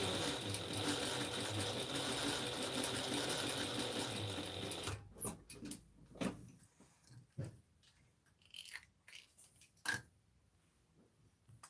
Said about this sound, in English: I'm just sewing my gathers at 3/4 of an inch first